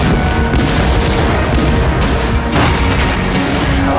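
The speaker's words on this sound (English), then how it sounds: "Man the cannons!" Heavy booms and crashing blasts roll continuously, loud and rumbling, like a dense barrage of ship cannons firing in the video game Assassin's Creed IV: Black Flag.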